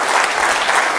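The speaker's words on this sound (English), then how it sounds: "Give a round of applause for our volunteer." Brief, loud burst of audience applause for a volunteer during a dance lecture on ballet positions, dense clapping filling the whole moment with no talk over it.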